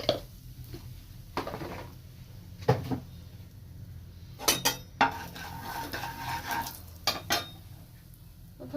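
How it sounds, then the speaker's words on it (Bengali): Boiled duck eggs and potatoes frying in oil with salt and turmeric in a pan for duck egg curry: metal utensil scrapes and clinks against the pan over a soft background sizzle, with scattered clatter. "এই জন্য প্রথমে ডিমগুলোকে ভেজে নিচ্ছি।"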